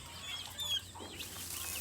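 Black chickens clucking on a farm, soft repeated clucks at moderate distance over steady outdoor background noise, with no talking.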